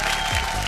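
Dense studio audience applause welcoming semifinalist contestants on a TV game show stage, a loud, brief burst of many hands clapping at once.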